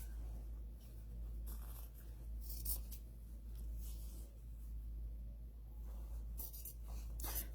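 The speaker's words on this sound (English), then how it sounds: "And with my fabric scissors, I'm going to cut around." Fabric scissors snip and slide through fabric in a series of crisp cuts over a low steady hum, close up, with no talking.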